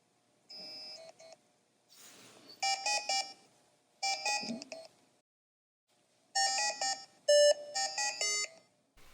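Eerie electronic title-screen music from the video game Gelatinous: Humanity Lost, with bright, bell-like synth notes in short phrases separated by pauses, building gradually, with no voices.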